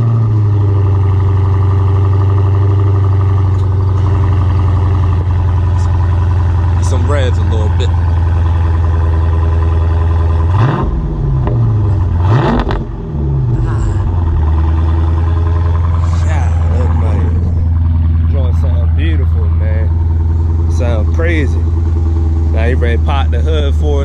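A 2018 Dodge Challenger Scat Pack Shaker with a 6.4-liter engine idles with a deep, loud, steady rumble, briefly revving twice midway, while people talk over it.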